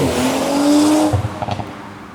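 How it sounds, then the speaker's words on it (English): A car engine revs and tires squeal, then a rapid cluster of sharp exhaust pops and crackles as it passes close by. "he's got his pop and bangs going"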